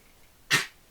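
A single short sneeze, sharp and fairly close, bursts out once against a quiet background during a relaxed gaming session.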